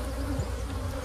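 Honey bees buzz steadily around large hives, a continuous close drone with no breaks.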